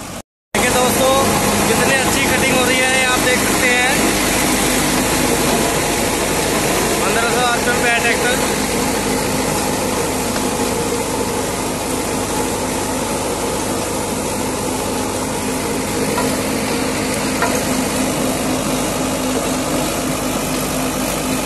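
A Mahindra 585 tractor engine runs steadily with a rotavator attached in a field, a continuous mid-pitched drone with rattling vibration, fairly loud and close throughout.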